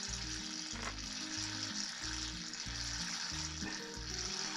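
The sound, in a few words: oil draining from hydro-locked estate car engine, fizzing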